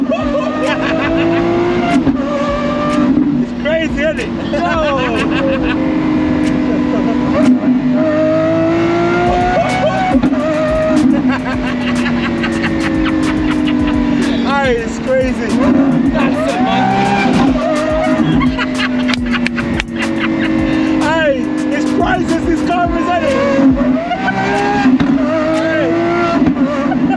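Straight-piped Lamborghini SVJ Roadster accelerating hard, a loud, sustained engine roar with repeated revving surges and tire squeal, close by, with shouting voices over it.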